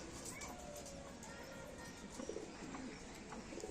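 Pet pigeons at a keeper's loft give soft, low cooing calls at a moderate distance over a steady ambient hiss, with a few faint chirps and no talk.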